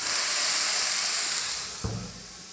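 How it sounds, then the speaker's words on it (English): Potatoes and sausage steaming under a cover on a Blackstone griddle, a loud, close, steady hiss that fades gradually, with a small clunk near the end. "We're gonna close it. We're gonna steam it some more."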